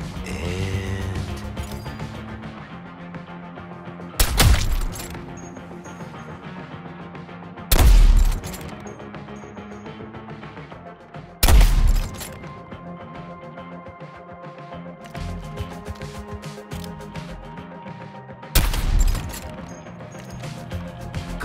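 Four heavy bursts of gunfire from a Suicide Squad: Kill the Justice League game fight ring out at intervals, loud and close, over a steady bed of game music and ambience.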